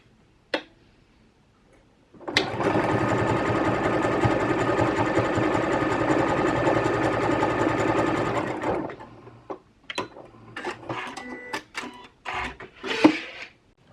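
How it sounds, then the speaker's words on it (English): A sewing machine runs a zigzag stitch along lacing strips in one steady, loud, rapid burst of about six seconds, framed by a few handling clicks and rustles before and after. "run a little zigzag stitch along the tops and bottoms of both of these"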